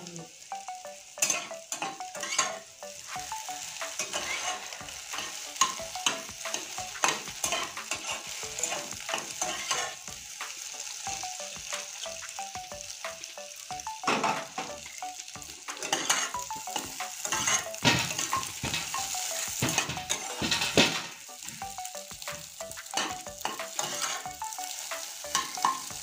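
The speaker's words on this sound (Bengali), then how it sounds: "দেখুন আমি ডিমটা ভেজে নিয়েছি" Egg frying in a pan with a steady sizzle, broken by repeated scraping and clinking strokes of a utensil stirring against the metal, close and with no talk.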